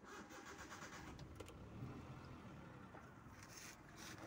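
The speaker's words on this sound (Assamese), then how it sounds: "আপোনালোকক মই গাড়ীখনৰ ইঞ্জিনৰ চাউণ্ডটো শুনাব গৈছোঁ।" A 2014 Hyundai Eon Era Plus engine idles very quietly with a steady, even hum, with no other sounds over it.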